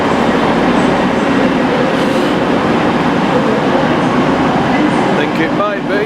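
A train rumbles loud and continuous at a Leeds station platform, a steady broad roar with faint wheel squeals near the end, with voices talking over it.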